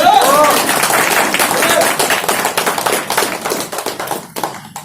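An audience in a seated group meeting in Kolkata claps on request, with dense, loud, continuous applause that thins into scattered claps toward the end.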